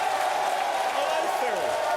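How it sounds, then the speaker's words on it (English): Crowd in a television football talk show studio cheering and applauding, a steady wash of clapping and voices with someone speaking over it throughout. "Oh, they're up and about the crowd"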